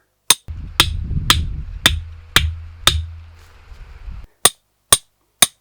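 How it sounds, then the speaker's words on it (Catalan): Sharp metallic hammer strikes drive a soil sampling cylinder into agricultural ground at a steady rhythm, about nine blows, with a low rumble between the first several and the last few ringing out alone. "procedim a clavar la punta del cilindre i amb el martell prensem"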